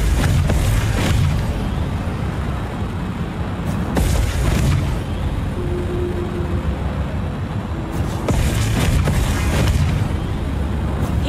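Rifle shots in the space combat game Chorus, heard as heavy booming bursts at roughly 0, 4 and 8 seconds, set over a loud, constant rumbling engine bed.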